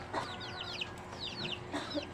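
Several chickens cluck and chirp in short bursts, fairly close, against a steady low background hum.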